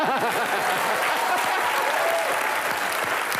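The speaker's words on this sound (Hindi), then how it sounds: "प्रियंका के लिए जोरदार तालियां" A studio audience at a comedy show bursts into dense, loud applause for a celebrity guest, a continuous wash of clapping with a few cheering voices early on.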